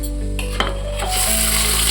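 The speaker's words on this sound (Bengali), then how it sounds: "সাদা তেল গরম হয়ে গেছে এবার কি দিচ্ছ পেঁয়াজ ভাজবো" Onions frying in hot white oil in a pan give a steady, loud sizzle with a few scraping stirs and a brief clatter of utensils, close up with no talking.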